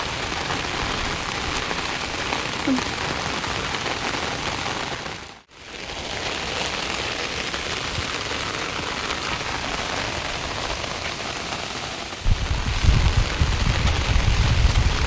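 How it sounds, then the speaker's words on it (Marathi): Heavy monsoon rain falling outdoors over fields, a dense, constant roar of drops on surfaces with a brief dropout, then growing louder and heavier near the end. "भाई पाऊस केवढा भरला आता."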